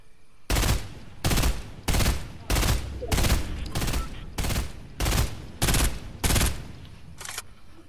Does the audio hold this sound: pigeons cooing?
no